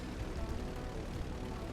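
Aircraft engines in the video game GTA 5 Online, an airplane and helicopters droning as a steady, moderately loud broadband roar with no talk.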